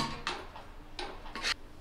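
Boiled dal being stirred in a pot, with a few distinct scraping clinks of a ladle against the metal at irregular intervals over a quiet kitchen background.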